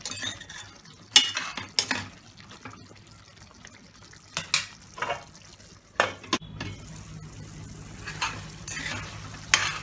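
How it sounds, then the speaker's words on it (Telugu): Prawn curry with garam masala is stirred in a pan, with a soft bubbling sizzle underneath and a series of sharp scraping and clinking strokes of the spoon against the metal, some bursts close and loud. "ఒక 2 స్పూన్స్. వేసుకుని బాగా మిక్స్ చేసుకుని మళ్ళీ మూత పెట్టుకుని ఒక 5 మినిట్స్ ఉడికనివ్వాలండి"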